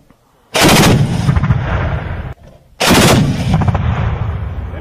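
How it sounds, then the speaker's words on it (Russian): A ZU-23-2 twin-barrel anti-aircraft gun fires live rounds during air defense artillery training, two loud sustained bursts of rapid gunfire, each lasting about two seconds with a short pause between, close and powerful. "Сейчас проводится практическая стрельба с зенитной установки"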